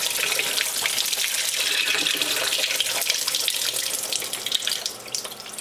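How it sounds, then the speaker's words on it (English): Steady rush of warm tap water running into a container, a continuous broadband hiss that holds level throughout and eases slightly near the end. "I'm just gonna fill it up again with nice warm water."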